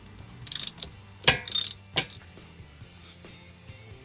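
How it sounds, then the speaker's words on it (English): The emergency brake lever of a Porsche 911 SC ratchets in a few short, sharp clicks and a clunk up close, followed by quiet workshop hum. "put the emergency brake back."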